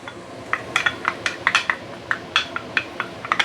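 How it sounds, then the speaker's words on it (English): Dried shrimp sautéed in a pan, heard as a series of sharp metallic clinks and scrapes from stirring, irregular and close over a faint background hiss. "we should saute the dried shrimp first to really bring out the fragrance"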